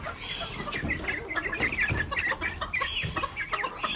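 Miniature chickens cluck and chatter in a backyard coop, a busy overlapping flock of soft, close calls with no talking.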